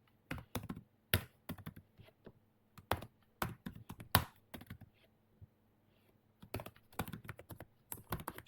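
Someone types on a computer keyboard while working in Excel, with irregular bursts of close, crisp key clicks separated by short pauses and no talking.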